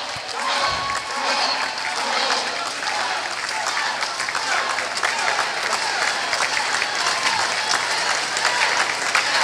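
Crowd at a 2009 National Veterans Wheelchair Games swimming event applauding steadily as a swimmer finishes her race, a sustained wash of clapping in an echoing pool hall with a voice faintly underneath.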